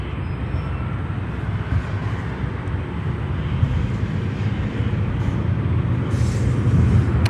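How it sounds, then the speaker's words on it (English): An EVA Air Cargo jet inbound from Anchorage lands on runway 10 Center at Chicago O'Hare, a loud broad rumbling roar of engines and rushing air that holds steady and swells slightly toward the end. "we have next EVA Air Cargo here on 10 Center, coming in from Anchorage"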